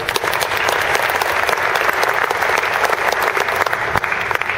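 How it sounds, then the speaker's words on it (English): Sustained applause from an audience, a dense steady patter of many hands clapping at close range throughout, with no speech over it. "I don't know why you just clapped"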